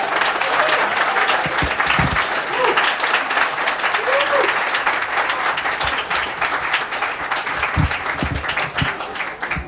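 Steady, dense applause from an audience welcoming a speaker, Dr. David Malaspina, to an astronomy talk, a continuous loud wash of clapping lasting throughout with a few faint background voices.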